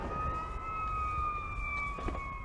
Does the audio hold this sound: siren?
yes